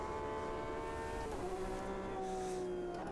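Porsche 911 RSR GTE engine in the sim racing game Automobilista 2 on the Nordschleife, revving high with a sustained tonal whine that dips in pitch with a gear change and climbs again, with no talking.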